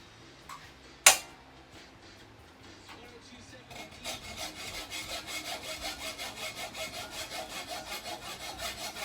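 A sharp clank, then a large hacksaw cutting through a metal casting sprue in steady back-and-forth strokes, rhythmic and close, growing louder as the sawing settles in.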